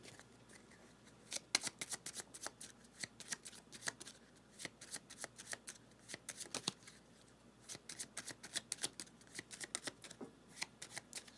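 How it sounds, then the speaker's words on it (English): A board game card deck is riffle-shuffled close up in repeated crisp bursts of rapid flutter, with short pauses between shuffles and no voices. "So all of his cards go back, and we'll shuffle his deck up as well."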